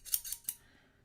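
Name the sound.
old scissors cutting out paper squares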